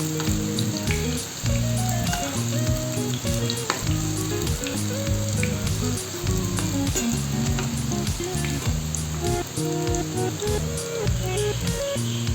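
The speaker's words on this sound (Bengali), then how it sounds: "কুপ্তা ভাজা হতে হতে" Loud, constant sizzle and bubbling of pumpkin-seed koftas deep-frying in oil, unbroken throughout with no talking.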